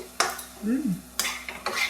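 A spoon scraping and stirring a thickened mango sweet mixture in a wok, with several sharp scrapes and clinks against the pan and a faint sizzle between them.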